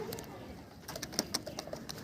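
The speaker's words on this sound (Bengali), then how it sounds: "এটা ফিমেল পায়রা থাকছে পায়রাগুলো সব সেল আছে" Delhi racing pigeons coo softly at close range in a loft, with low, throaty murmurs over a quiet background and a few faint higher chirps.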